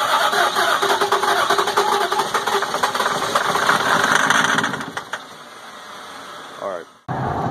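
A car engine with weak batteries cranks loudly for several seconds, catches, then dies out after a brief sputter, with voices talking over it.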